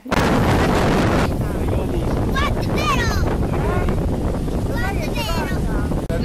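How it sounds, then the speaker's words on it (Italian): Strong wind buffeting the microphone with rough, choppy sea at a beach on the first day of summer, a loud continuous roar, with brief bird-like chirps and faint voices partway through. "Naturalmente primo giorno di mare, mare mosso, vento."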